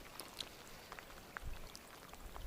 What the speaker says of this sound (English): when this rain stops, it's just started a bit